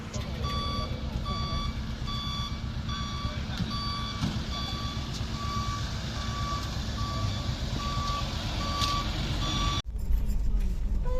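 A truck reverses at a ferry on the Konkan coast near Guhagar, its backup alarm beeping in a steady, evenly spaced series over a low engine rumble and faint voices, cut off abruptly near the end.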